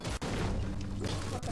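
Teammates firing weapons in Fortnite, heard as a dense, steady burst of gunfire and impacts at moderate distance, with sharp cracks standing out near the start and end.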